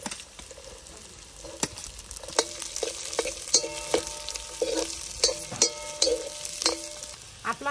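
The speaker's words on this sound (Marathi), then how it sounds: "आता आपण कांदा परतून घेऊ." Onions sautéing in a pan with green chilli, ginger and garlic, a continuous sizzle broken by repeated sharp scrapes and clinks of a spatula stirring against the pan, close and clear.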